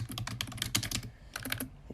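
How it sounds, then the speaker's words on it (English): Rapid typing on a computer keyboard, a close run of quick clacking keystrokes that pauses briefly and then resumes with a few more presses. "If you hear typing"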